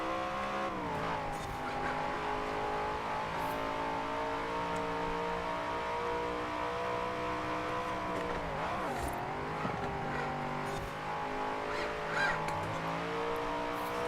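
Ferrari screaming through the corners of a Forza Horizon 4 race, its engine holding a steady high-revving drone with rising and falling gear harmonics and a brief dip around the ninth second, with no voices over it.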